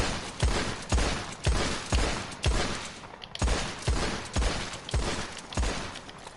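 Gunfire in the Red Dead Online western game: about a dozen sharp, loud shots fire at a steady, rapid pace, each with a brief echoing tail, and no talking between them.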